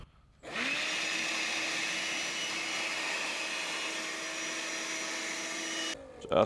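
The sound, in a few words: electric pump deflating a roof top self-inflating mattress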